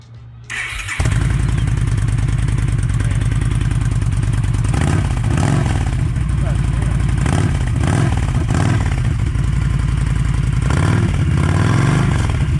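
A Yamaha V Star 1300 motorcycle fitted with a Cobra slip-on exhaust cranks and fires up, then settles into a loud, close, rumbling idle broken by several throttle blips that swell and fall, with no talking.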